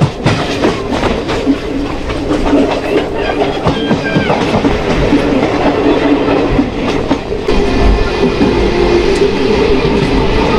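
The Paharia Express rolls from Digha toward NJP, heard from on board. A loud, continuous rumble of wheels is broken by rhythmic clickety-clack over the rail joints and occasional metallic squeals.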